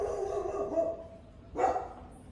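A dog gives two short barks, the second sharper and louder, fairly close against a steady low background hum, with no talking.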